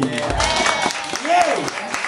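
Audience claps for the vocalists at a live music session, a short burst of steady applause with an MC's voice talking over it.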